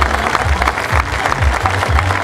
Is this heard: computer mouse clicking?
no